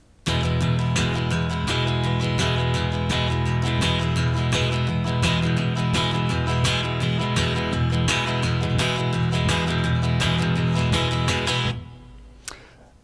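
Rapid, even acoustic guitar strumming in quick sixteenth-note rhythm, loud and steady for about twelve seconds, then stopping with a brief final tap.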